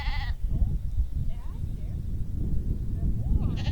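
Sheep bleat a few times during a herding-dog training session at a farm holding pen, the calls fairly close over steady low background rumble.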